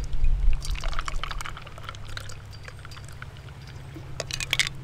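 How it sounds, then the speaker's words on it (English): A cocktail is poured over ice at a Hawaiian barbecue spot in Spokane, Washington, giving a close, steady splashing pour that slowly fades into lighter trickles and drips. "And we're just going to pour that over ice."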